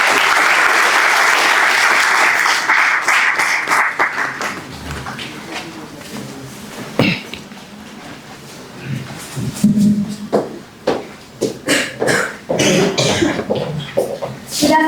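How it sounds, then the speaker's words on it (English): A school audience at a chess grand finale ceremony in Motihari applauds a class 10 student loudly and steadily at first, then the clapping fades into scattered claps, coughs and murmurs in a reverberant hall. "A big round of applause for Stuti."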